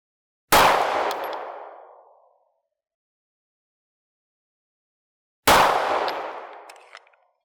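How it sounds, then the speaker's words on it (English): Two loud outdoor gunshots on a shooting range, fired at a small brick target roughly 25 to 30 yards away with a Gideon Optics Judge XL green dot sight. Each sharp crack decays into a long echo, and several seconds of silence separate them. "now I'm going to try to shoot a small target at around maybe 30 yards"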